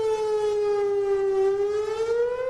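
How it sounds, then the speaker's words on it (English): An outdoor civil defense warning siren in Fort Worth wails loudly and alone as one sustained tone that dips slightly in pitch, then rises again. "The main warning system consists of 153 outdoor warning sirens."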